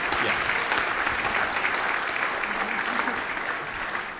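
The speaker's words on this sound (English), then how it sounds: "I assume they're not applauding for me, but I'll take it" An audience at a national summit on human trafficking applauds in a sustained, even wash of clapping from many hands, steady throughout and slowly tapering at the end.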